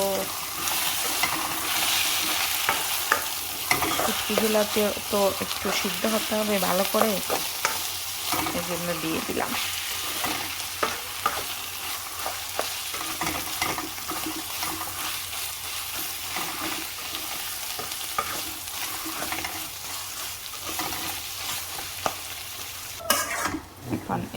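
Dried lotia fish (Bombay duck) is stirred and fried in a pan for a spicy mash, with a steady close sizzle of hot oil and a spatula scraping and turning the fish throughout, with no talking.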